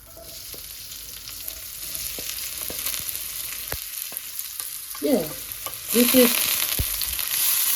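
Chopped onion sizzling in hot olive oil in a pan for an okra dish, a steady crackling fry with a few stirring scrapes and a brief word spoken over it.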